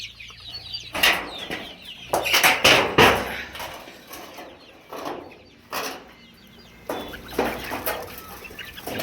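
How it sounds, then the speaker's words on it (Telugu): Two-month-old chicks on a poultry farm cluck and chirp close by in bursts, with some wing flapping and no talking. "రెండు నెలల వయసు గల కోడి పిల్లలు ఇవి"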